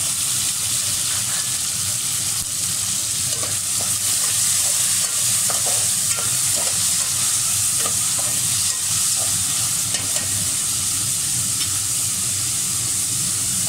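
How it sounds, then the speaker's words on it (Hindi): Chopped tomatoes sizzle and fry in a pot with onions, with steady loud sizzling throughout and repeated scraping stir strokes over it; no one speaks. "अब हमने 2 अदद जो है बड़े साइज़ के टमाटर काट के रखे थे वो हमने इसमें डाले।"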